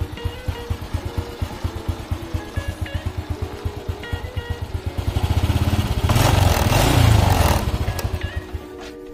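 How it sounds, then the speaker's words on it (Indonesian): A 1992 Honda Astrea Grand motorcycle idles with a rapid, even putter, then the engine is revved up into a louder, rising roar before settling back. "Mesinnya halus banget."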